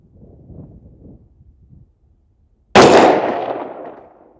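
A single loud rifle shot from Atomic Ammo 77 grain match ammunition, fired at a target 300 yards away, rings out sharply and decays over about a second and a half after a faint, low rumble.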